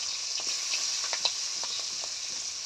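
Pieces of fish fry in hot oil in a kadai, a steady close sizzle with a few scattered crackles and pops throughout, no voices.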